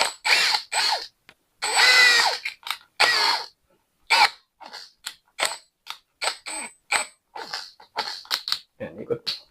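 An INGCO cordless drill running in reverse makes a series of short, whirring bursts, some longer and some clipped, followed by a quick run of stuttering ratchet-like pulses, all close and fairly loud.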